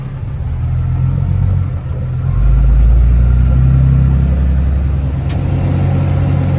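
Truck engine with electric fans and an exhaust brake, fitted with a front end kit, rumbling steadily while driving, a continuous loud low drone that swells slightly as it pulls.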